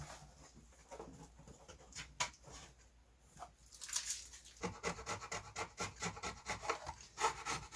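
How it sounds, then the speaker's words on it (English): A sharp square piece of metal scraping epoxy globs off a wooden outrigger, producing close, faint rasping strokes in quick irregular bursts that grow busier toward the end. "Using a sharp square piece of metal. Scrape out any globs of epoxy."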